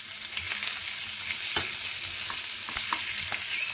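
Grill sausages fry in a pan with a bright, continuous sizzle and scattered sharp pops and spatters, close-up with nobody talking.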